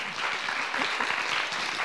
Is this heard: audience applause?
yes